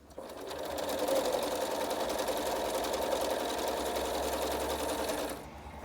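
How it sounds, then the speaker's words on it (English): A sewing machine stitching the first seam of a quilt block, a continuous fast mechanical whir running steadily for about five seconds before stopping, close and loud with no voices. "So pop my foot down, needle down, and sew the first seam"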